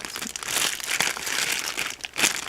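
Crinkly plastic packaging from a YarnCrush subscription box goodie being opened by hand, a steady close crackle and rustle with a few sharper tearing crunches throughout.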